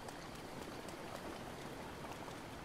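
Rain in the video game Zelda: Breath of the Wild, a soft, constant patter of drops on the ground, faint and alone without voices.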